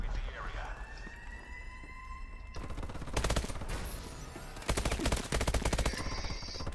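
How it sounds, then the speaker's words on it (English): Automated sentry gun in the shooter game Call of Duty Advanced Warfare firing in rapid sustained bursts, loud and dense, mixed with other gunfire and electronic tones while a player talks over it. "Oh, a sentry gun's doing work."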